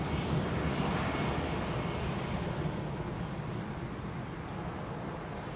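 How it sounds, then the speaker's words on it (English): A Qatar Airways Boeing 777-300 lands on runway 27 left at London Heathrow, a steady, loud broadband jet roar that holds throughout and eases off only slightly toward the end. "Qatar 777-300 landing"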